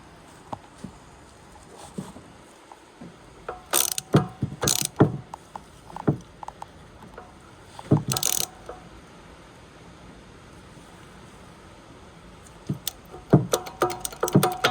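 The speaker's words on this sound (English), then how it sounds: "Now I can use my wrench." A ratchet wrench works on a bolt while fitting a rear right ABS speed sensor on a 1999 VW Golf Mk3 2.0 petrol. It gives a few short bursts of quick mechanical clicking with quiet gaps, heard close.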